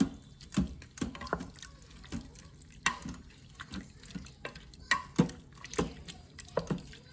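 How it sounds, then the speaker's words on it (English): Ingredients stirred into a pot of keto cheddar broccoli soup, a spoon knocking and scraping in quick irregular clinks and wet sloshes, close and moderately loud, with no talking. "So I'm just gonna stir that in with everything else."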